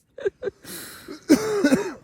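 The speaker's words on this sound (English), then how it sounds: "Are you gonna cough?" A throat clear and short cough up close, a couple of quick bursts followed by a rougher, longer hack.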